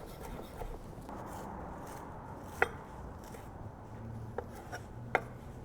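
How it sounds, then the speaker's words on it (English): A knife chops fresh parsley and cilantro on a board, making a soft, steady rustling scrape with a few sharper knocks standing out now and then. "Just give it a good chop."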